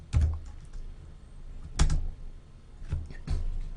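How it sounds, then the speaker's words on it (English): Keys tapped on a computer keyboard while entering sample text: a handful of sharp, close clicks arrive in small clusters separated by short pauses, clear against a quiet background. "let's type some sample text"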